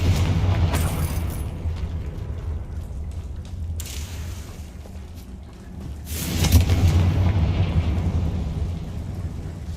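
In the Hogwarts Legacy video game, the Confringo fire spell sets off several loud, booming explosions, each trailing into a rumble. Quieter ambient game noise fills the gaps between the blasts.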